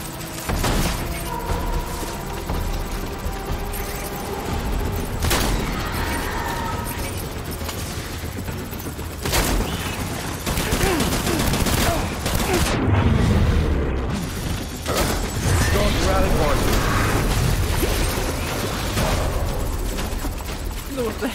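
Shotgun blasts in the Death Stranding video game, several loud booming shots spread irregularly through a tense noisy scene with rumbling effects and someone talking over the action.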